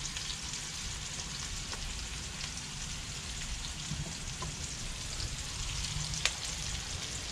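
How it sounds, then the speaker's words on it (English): Onions frying in a pot for a Guyanese red snapper curry give a steady, dense sizzle and crackle with occasional small pops, close and continuous throughout, no voices. "Let that fry up there a little bit"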